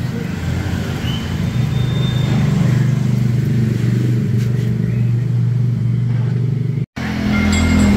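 A Toyota Agya 1.2 with a straight-pipe racing exhaust, its resonator replaced by plain pipe, idles and revs with a deep, loud, steady bass rumble that cuts out abruptly for an instant before resuming.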